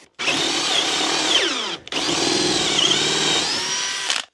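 A power drill whines at high speed, bogging down as it bites into wood through a multi-angle drill guide, pauses briefly, then runs again for several seconds close by.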